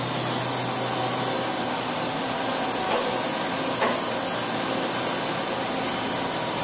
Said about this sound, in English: run the spindle up.